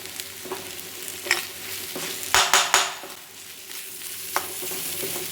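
Egg poriyal being stirred in a hot pan, with a soft sizzle, occasional spatula scrapes and a burst of sharp metallic clanks against the pan partway through.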